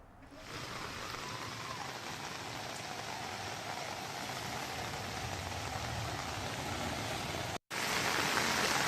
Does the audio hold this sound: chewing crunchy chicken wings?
no